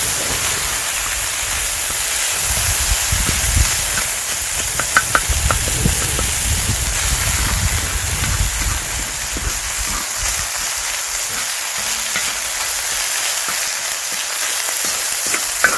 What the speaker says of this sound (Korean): 참치 넣으면서 볶아줍니다